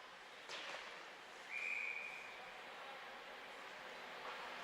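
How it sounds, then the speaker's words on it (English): A referee's whistle at a junior women's ice hockey game rings out in one sharp, steady blast about a second long, moderately loud over the hollow rink ambience. "And we get a whistle for offside"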